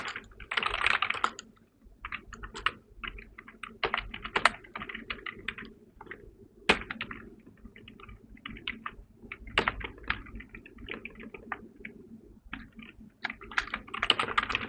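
Keys clatter on a computer keyboard as code is written in the Dart programming language, with irregular bursts of close, crisp keystrokes and brief pauses, with no speech.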